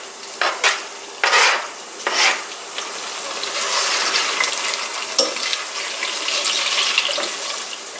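Garlic and ginger sizzle steadily in a pan for a Sri Lankan chicken curry, with a few louder scraping stirs early on, then a continuous bright frying hiss with occasional spoon clinks; no talking.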